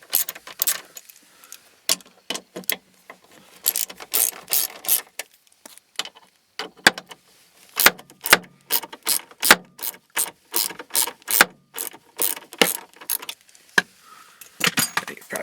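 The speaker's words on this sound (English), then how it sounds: "So I'm just taking the bolts off here." Ratchet wrench backing out the bolts on the passenger airbag of a 2004 Ford Focus ZX5, rapid clicking bursts repeating close up in quick irregular runs, each stroke a crisp chatter of pawl clicks with short pauses between.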